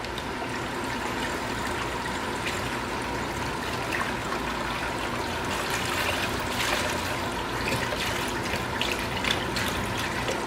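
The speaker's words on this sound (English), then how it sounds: "We're putting a 50-50 blend in, just over a gallon, pouring it in here." Just over a gallon of 50-50 coolant blend poured into a Chevy radiator during a water pump repair gives a steady, continuous liquid trickle and splash, close by and moderately quiet, with no talking.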